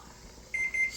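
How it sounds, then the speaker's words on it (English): A kitchen timer goes off while potato ham soup cooks, giving two short, clear electronic beeps near the end after a quiet stretch. "the timer's about to go off"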